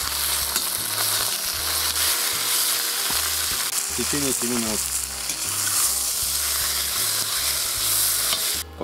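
Lamb meat sizzles and fries loudly in a hot cast-iron kazan, with a steady crackle and occasional scraping clinks, while a voice speaks briefly over it.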